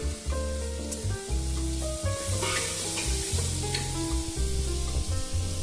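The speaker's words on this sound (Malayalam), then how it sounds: "ഈ സമയത്ത് നമുക്ക് നന്നാക്കി വെച്ചിരിക്കുന്ന ഉണക്കമീൻ ഇട്ട് കൊടുക്കാം." Cleaned dried fish fries in a pan for a coconut curry, with a loud, steady sizzle up close and regular scraping strokes of a stirring utensil throughout, and no one speaking.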